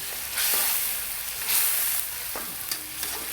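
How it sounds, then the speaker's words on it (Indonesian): Galangal and palm sugar stir-fried in a pan give a close, steady sizzle, broken by several scraping stirs that swell and fade in short bursts. "Kita aduk biar sampai matang."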